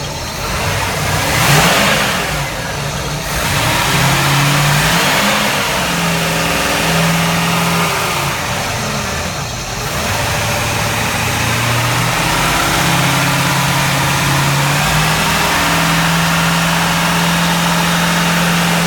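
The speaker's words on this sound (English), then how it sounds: "Rev it up a few more times. Just kind of rev it up and down." The port engine of a Uniflite 38 boat is revved up and down to around 3,000 rpm, a loud, close mechanical drone whose pitch repeatedly climbs and falls, with no voices.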